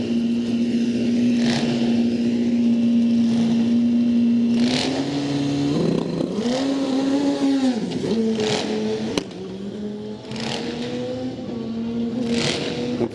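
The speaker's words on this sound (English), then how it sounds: "And our friend from Italy, Daniel, got his Suzuki refired, so he's on a solo." A Suzuki drag racing motorcycle makes a solo run down a drag strip, a loud sustained engine whine that climbs in pitch through several gear changes, each shift marked by a brief dip before the note rises again as the bike pulls away.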